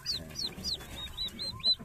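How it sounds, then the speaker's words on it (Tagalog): Turkeys kept as breeders on a farm give a run of short, high clucks and chirps in an uneven rhythm, close by, with a low background rumble and no talk. "Yan yung mga pabo."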